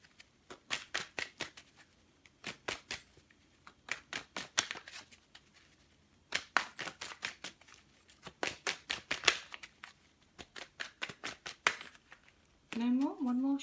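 Tarot cards shuffled by hand in repeated quick riffling bursts with short pauses between, close and crisp, ending with a brief spoken voice.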